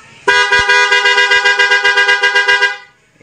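Loud aftermarket horn fitted to a Yamaha NMAX v2 scooter blaring up close in a rapid string of about fifteen pulsing honks that run together for over two seconds before cutting off.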